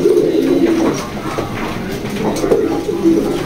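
A male pigeon in a loft gives repeated low, throaty coos in a loose rhythm, close by over a faint background.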